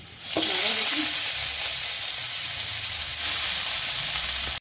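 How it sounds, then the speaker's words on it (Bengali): Soybean chunks frying in a little oil in a wok, a loud, close sizzle that surges as they hit the pan and then holds steady, with occasional stirring scrapes. "একই কড়াই দিয়ে দেবো অল্প তেল, সোয়াবিনটা ভেজে নেব।"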